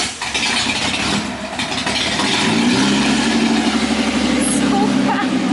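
A VQ35 V6 in a Nissan 240SX drift car with no exhaust fitted idles close by, a loud, raw, steady drone. People talk nearby over the engine.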